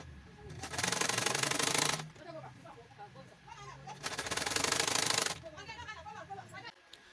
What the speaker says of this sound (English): let's go ahead to sew our neckline